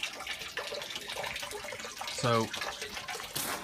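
Water is pumped through an IBC aquaponics system that feeds a fish tank and flood-and-drain grow beds, a steady close splashing gush running throughout, with one short spoken word partway through.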